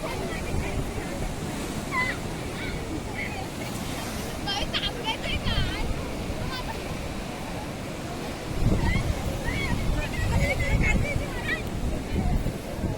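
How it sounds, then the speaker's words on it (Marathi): Sea waves roll onto Kasheli beach in Ratnagiri, a continuous surging wash that swells louder partway through, with gusts of wind buffeting the microphone and a voice talking over the surf. "बघा समुद्र केवढं मोठं होतो बघा"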